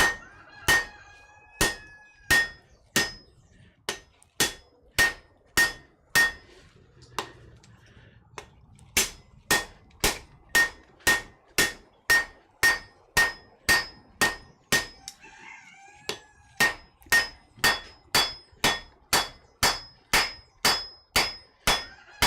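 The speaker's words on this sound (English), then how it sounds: "use the edge of the hammer as a fuller so I can swing it away" A hammer strikes hot metal being forged in a smithy in a steady, ringing rhythm, dozens of sharp clanging blows with two brief pauses, close and loud.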